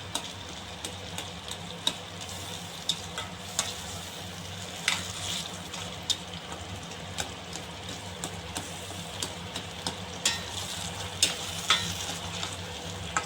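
Salted tomatoes mashed with a slotted ladle in a pot give a steady wet sizzle, with frequent soft clicks and scrapes of metal against the pan and no voices.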